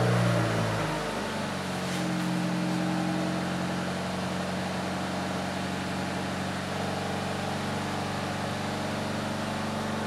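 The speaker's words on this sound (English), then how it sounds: "I'm about to start the car now" A 1996 Honda Accord engine cranks and catches, then settles into a steady, even idle hum close by with no talk.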